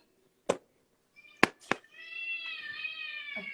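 Beside a window, a few sharp knocks or taps come first, then a cat gives a drawn-out, fairly faint meow from just outside the glass.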